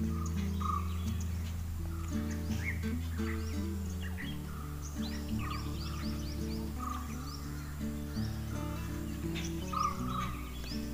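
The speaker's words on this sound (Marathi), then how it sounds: "एकाने वेगळाच पक्षी ना ओरडतोय" A bird calls from a tree in the Konkan countryside, its repeated chirping cries rising now and then over a steady droning, buzzy background hum, with no voices present.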